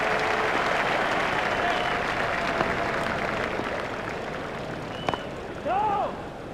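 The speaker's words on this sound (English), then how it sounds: "The crowd really enjoyed that shot." Cricket stadium crowd applauds and cheers a big shot in a T20 match, a broad, moderately loud wash of clapping that slowly fades beneath a commentator's voice.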